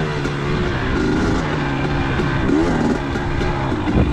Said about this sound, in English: The bike was running really good, pretty crisp.